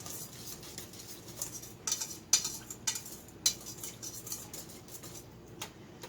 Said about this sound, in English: And then you stir it up